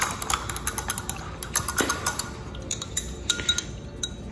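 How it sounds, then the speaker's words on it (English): Glass stir rod clinking against a glass vessel while dissolving a solid during a chemistry demonstration, with light, rapid, irregular taps close by and fairly faint. "we're going to take our little stir rod and get this to dissolve."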